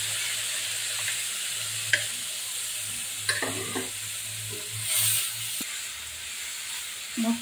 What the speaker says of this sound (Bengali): মশলাটা সুন্দরভাবে কষিয়ে নিয়েছি, তেলটা উপরে উঠে আসছে।